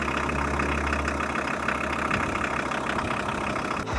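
A neglected VW T4 campervan engine runs steadily after starting, a close, rough idle with a low rumble and faint knocking that holds even for several seconds before a brief dip at the end.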